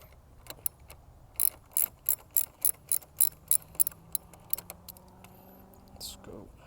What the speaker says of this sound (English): With our trusty 10mm wrench, you unscrew this.